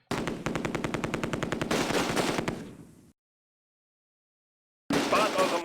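Rapid machine-gun bursts and rifle fire in the World War II strategy game Close Combat: A Bridge Too Far, dense and loud, then a sudden silence before more shooting resumes.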